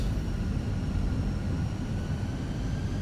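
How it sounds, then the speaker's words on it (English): A departing airliner at Hong Kong airport in Microsoft Flight Simulator: a steady, low, rumbling jet-engine roar that holds constant and fills the whole stretch with no pauses. "It's an aircraft just departing just right now."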